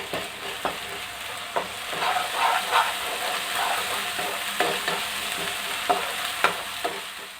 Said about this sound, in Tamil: இதில் கொஞ்சமாக இஞ்சி பூண்டு பேஸ்ட்டு ஆட் பண்ணிவிட்டு இது நல்லா வதக்கி விட்டுக்குங்க.